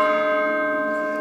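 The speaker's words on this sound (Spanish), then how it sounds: "este alambrito está conectado a una campana." A large church-type bell of the monumental clock in Pachuca, struck by pulling a wire, rings once loud and close, its bright metallic tone ringing steadily and slowly fading without other sounds.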